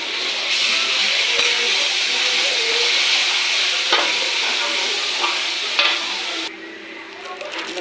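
Ground pork stir-frying in a large pan for spaghetti sauce hisses loudly and continuously, with spatula scrapes and knocks against the metal, before the sizzle drops off near the end.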